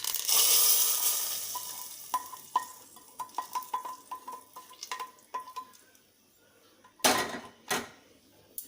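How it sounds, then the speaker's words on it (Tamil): Tempering for Mysore rasam poured into the pot, a fading sizzle with clinks and scraping taps of a utensil, then two louder splashy bursts near the end, with no talking. "நம்ம தாளிச்சதை ரசத்தில் சேர்த்துக்கலாம்."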